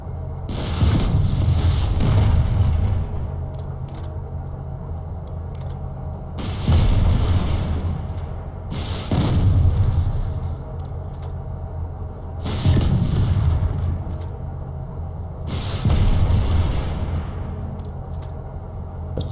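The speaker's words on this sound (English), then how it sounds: "So, 7 rockets from the Skep launcher. It kills the Vanguard if you hit all of them in the front." M9 Skep rocket launcher fired in a video game against a Vanguard mech, five heavy booming volleys spaced a few seconds apart, each a sharp blast trailing into a rumbling decay.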